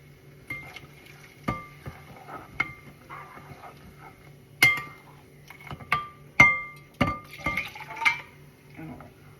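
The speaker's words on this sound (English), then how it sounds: "Now stir, stir, stir, and your chili oil is ready." Chili oil mixture is stirred in a pot, making repeated metallic clinks and scrapes of a utensil against the pot, irregular and close, with faint low background hum.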